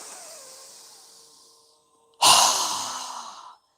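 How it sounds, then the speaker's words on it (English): A strong exhale through a wide-open mouth during a yoga breathing exercise, following a softer breath, then a single loud, breathy rush that fades over about a second, with no talk. "exhale with our mouth open wide with a strong breath"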